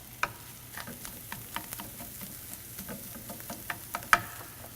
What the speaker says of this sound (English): Got some good sizzle on that, a browning of the corn.